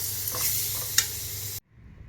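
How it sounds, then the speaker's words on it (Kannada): A spicy mixture with sour curd is stirred and roasted in a pan, giving a brief, close sizzle with a scraping stir and one sharp tap before it cuts off abruptly. "ಇನ್ನೂ ಒಂದು ಐದು ನಿಮಿಷ ಇದನ್ನು ನೀವು ಚೆನ್ನಾಗಿ ಹುರ್ಕೋಬೇಕು"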